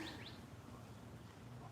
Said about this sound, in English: Somebody has green parrots in New York.